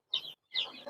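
Young male chickens of a fast-growing farm breed give two short, quiet calls in quick succession, each a brief bright chirp-like cluck separated by a moment of silence.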